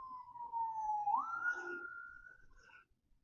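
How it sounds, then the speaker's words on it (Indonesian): A single faint, distant ambulance siren wail on a road in Tasikmalaya, rising in pitch and then holding steady before fading out. "suara ambulan."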